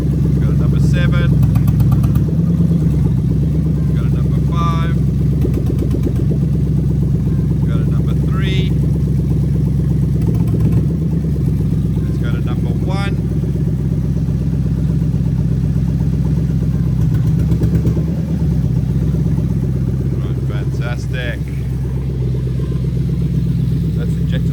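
A Lexus IS200 engine idles steadily at about 1000 rpm, a continuous low hum that runs throughout while someone talks over it.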